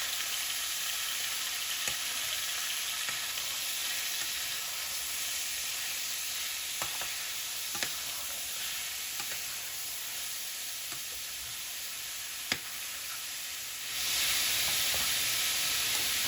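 Chicken meat browning in a hot pan, a steady bright sizzle running continuously with scattered small pops and crackles, close and fairly loud, briefly swelling near the end.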